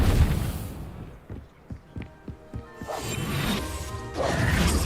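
A Reparo repair spell cast in Hogwarts Legacy, heard as a burst of magical crashing and whooshing with a run of sharp clattering knocks in the middle, swelling again toward the end. No one speaks.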